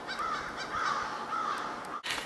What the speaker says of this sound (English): There are so many crows out here.